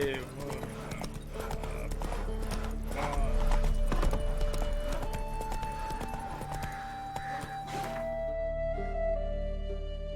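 Horse hooves clip-clop steadily while riding in The Witcher 3, the rhythmic footfalls close and clear under faint game music.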